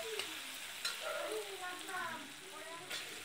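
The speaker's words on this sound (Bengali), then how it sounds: "এবার আর একটু নেড়ে নেব। দেখো পেঁয়াজগুলো মোটামুটি নরম হয়ে এসছে।" Onions softening in a frying pan sizzle steadily while a spatula scrapes and stirs them in a few short strokes, close and moderately loud.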